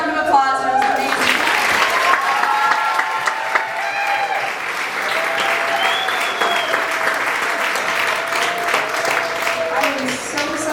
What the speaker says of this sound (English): Another round of applause for those amazing.